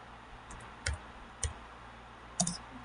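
Keys tapped on a computer keyboard while entering Linux network configuration commands, a few sparse, quiet clicks spaced irregularly over a faint background hiss, with no talk.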